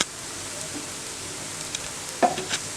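A pancake cooks in a pan, a soft steady sizzle running throughout with a few small stirring or pressing touches near the end; no one speaks.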